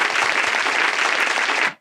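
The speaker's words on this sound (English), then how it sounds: "Give me that applause." Dense, steady applause from a crowd of hands fills the moment at an even, fairly loud level, then stops abruptly near the end with no talking over it.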